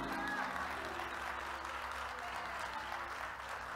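A church congregation claps and applauds at a distance during Sunday worship, soft and continuous over a low sustained hum, with faint crowd murmur.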